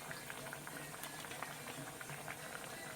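Olive oil heating in a hot pan, about a tablespoon, giving a faint, steady sizzle and fine crackle alone for a few seconds.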